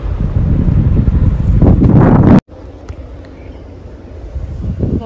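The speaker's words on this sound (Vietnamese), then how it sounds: "gió đu đưa rất là đẹp luôn" Strong wind buffets the microphone loudly in a yellow flower garden near an airport, roaring for about two seconds, then cutting out abruptly before resuming as softer, steady gusts.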